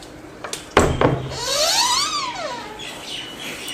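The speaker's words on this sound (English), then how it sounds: "So nowadays we can hear a lot of noise from the birds" A bird outdoors in Delhi gives a clear, close, rising-and-falling whistled call after a couple of sharp knocks, with fainter chirps trailing afterward.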